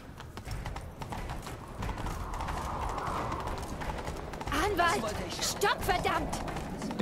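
Rhythmic hoofbeats of a galloping horse in The Witcher 3 with game-style ambience, and a voice briefly speaking German over it in the latter part.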